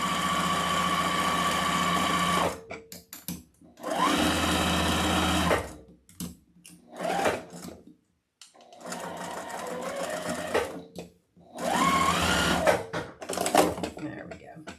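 A sewing machine double stitching the thumb of a fabric leprechaun wreath decoration: close, loud whirring runs of rapid stitching start and stop in several bursts, with short pauses and some talking in between.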